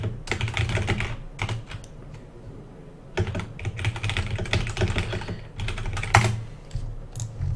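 Rapid typing on a computer keyboard, close dense clatter of keystrokes in bursts with brief pauses, loud and steady with no speech.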